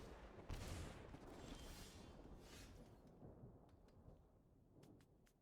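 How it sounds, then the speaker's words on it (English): Lightning Strike spell effect in the card game MTG Arena, a loud crackling burst that swells into a rumbling thunder-like roar and fades, with a few sharp clicks near the end. "I'm gonna Lightning Strike and put our opponent down to 8."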